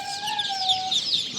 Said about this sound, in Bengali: এ হচ্ছে রাজা হাঁসের বাচ্চা